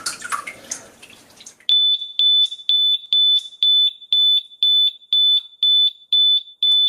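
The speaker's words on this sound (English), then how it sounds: "As you can hear with the siren, it is loud" An Eve Water Guard water leak sensor sounds its siren after a short stretch of faint splashing and rustling: a loud, piercing, high-pitched beep repeats about eleven times in a steady, even rhythm, close and alone.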